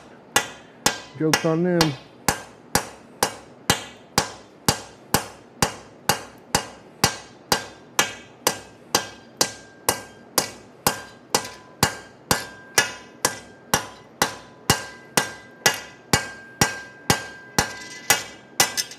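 A blacksmith hand-hammers forged swing outs to work out chop marks: a long, steady run of sharp, evenly spaced metal-on-metal blows, close and loud, with a brief spoken remark early on.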